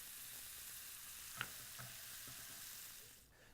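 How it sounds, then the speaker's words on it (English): Ground beef and chopped onion browning in a bacon-greased skillet, a steady soft sizzle with a few faint pops and stirring scrapes, fading near the end. "in the same skillet, we brown some ground beef along with a chopped onion"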